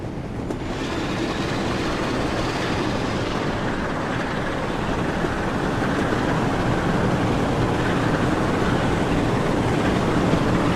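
Diesel train in Train Sim World 6, a loud continuous engine roar with rumbling wheels on track, steady and close throughout with no break.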